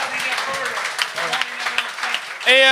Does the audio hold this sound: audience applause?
yes